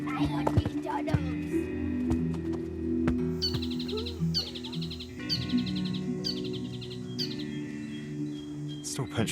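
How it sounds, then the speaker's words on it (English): Tieke (saddleback) bird calls ring out repeatedly in short, rhythmic bursts over a steady outdoor background, fairly close and clear. "Still pinch myself every time I hear those sounds. That's a tieki saddleback."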